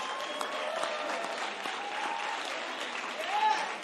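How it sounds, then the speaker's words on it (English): Audience at an annual Juneteenth Freedom Luncheon in Memphis, Tennessee applauds a keynote speaker, steady dense clapping filling the room with a slight swell near the end. "will you give our keynote speaker, Roland Martin, a round of applause?"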